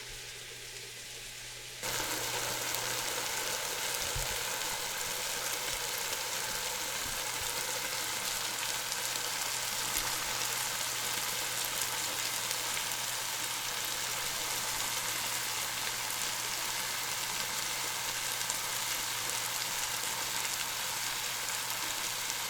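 Diced tomatoes and vegetables frying in a pan, a steady close sizzle that starts abruptly after a short quieter moment and continues evenly for a long stretch, with no talking.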